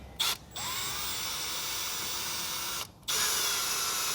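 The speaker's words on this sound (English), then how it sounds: "Hook up the drill." A power drill spins steadily with a constant whirring buzz, used to turn an engine part on a 1960 Ford Thunderbird, with brief pauses at the start and near the end.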